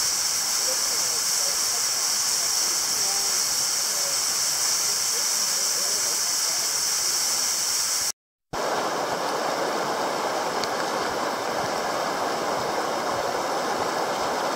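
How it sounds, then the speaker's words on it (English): Continuous roaring hiss of falling water at a waterfall in Hidden Jewel Gorge, Australia, where ropes are being set for abseiling, loud and unbroken apart from a brief cut partway through. "Steve is on number five waterfall,"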